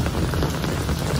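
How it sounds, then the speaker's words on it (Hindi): Heavy rain pours down during a monsoon day in Jammu, a dense, steady patter on surfaces close by, with no voices in this brief stretch. "गिल्ला हो रहा है बारिश में"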